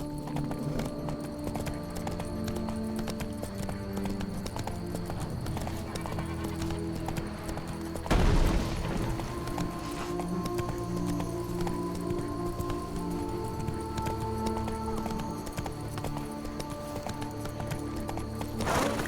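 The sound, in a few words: horse galloping in The Witcher 3 video game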